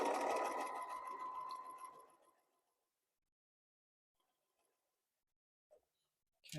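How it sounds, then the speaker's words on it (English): A sewing machine runs steadily across flannel strips for a baby blanket for about two seconds, then stops, leaving near silence broken by a couple of faint clicks. "I'm going to sew directly right across there from that to this one"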